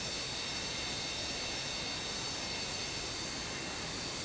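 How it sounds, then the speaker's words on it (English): Boeing 727 jet engines in Microsoft Flight Simulator 2024 give a constant, faint, even roar with a thin high whine on top and no change over its few seconds. "Listen to the engine sounds, ladies and gents. Very, very nice sounds."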